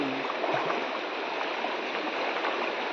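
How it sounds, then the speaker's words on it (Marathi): A village river swollen with risen water, flowing steadily: a continuous broadband rushing and gurgling roar, close and even throughout, with no talk over it. "पाणी वाढलं रे नदीला।"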